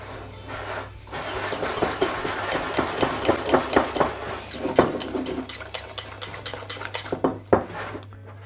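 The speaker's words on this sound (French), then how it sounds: "Je mélange." Whisk or spatula scraping and clinking rhythmically against a bowl while mixing chocolate cake batter of sifted flour, baking powder and unsweetened cocoa, a steady close series of metallic taps and rubs with a low hum beneath, no talking.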